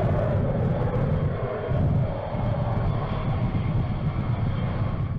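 A B-52 bomber's eight Pratt & Whitney turbojets roar steadily at takeoff thrust as the heavy aircraft rolls down the runway, a broad continuous rumble with no voices.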